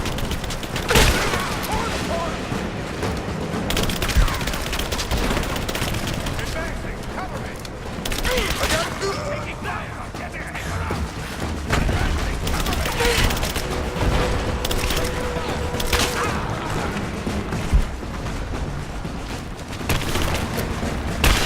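Steady gunfire in Rise of the Tomb Raider, dense overlapping shots and booms rattling on for about twenty seconds at a constant, fairly loud level.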